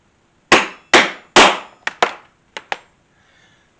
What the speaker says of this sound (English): Set my rivet on my setter.